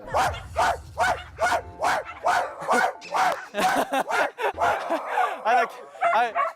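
A man imitates a dog with a run of rapid vocal barks and yips, loud and close, in a steady rhythm of short bursts with a little laughter mixed in.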